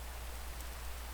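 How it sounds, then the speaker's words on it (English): Steady rain hisses in Minecraft, a dense even wash of falling drops with no breaks and no voices. "Oh, dang it, it's raining."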